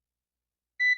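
A multimeter in buzzer continuity mode gives a single short electronic beep at the very end, clean and close after silence.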